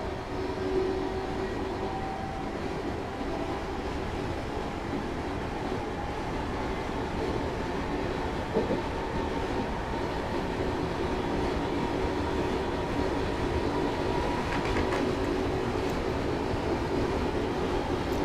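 A Class 321 electric train coasts with power idled in Train Simulator 2017 on the Harwich Town to Manningtree line, giving a steady, continuous rolling rumble and hum with no voices.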